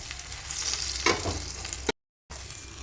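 A paneer paratha fries in ghee with a steady, close sizzle and bubbling, briefly cut to silence near the end.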